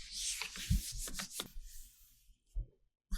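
A gel printing brayer is rubbed hard along its edges during cleaning, giving several close, scratchy rubbing strokes in quick bursts before a short pause and a couple of final scuffs.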